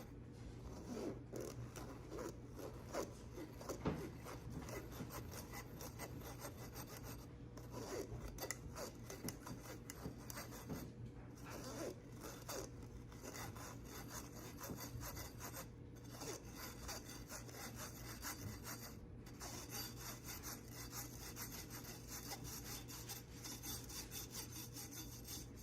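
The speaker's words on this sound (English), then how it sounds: "When you're sifting, you can push the ingredients through using a rubber spatula or a spoon" Dry chocolate donut muffin ingredients pushed through a sifter with a rubber spatula, a steady close rasping scrape with rhythmic strokes that carries on throughout.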